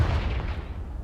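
A Confringo fire spell detonates in Hogwarts Legacy, a loud booming blast with a dense low rumble that carries on steadily through the whole moment.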